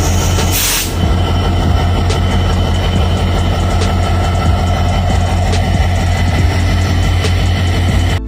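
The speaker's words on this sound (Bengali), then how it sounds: "আমাদের সেই ট্রেনটা এসে গেছে" A passenger train rolls into a railway station on the Natore to Kamalapur route, a steady loud rumble of heavy wheels and engine drone with occasional squeals, continuous and close throughout.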